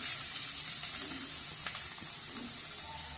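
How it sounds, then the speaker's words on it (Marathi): Pumpkin pieces roasting in ghee over a low flame, added to a pan where cashews and almonds were just fried, giving a steady soft sizzle throughout with no talk. "आणि छान भाजून घ्यायचा आहे तुपामध्ये आपल्याला"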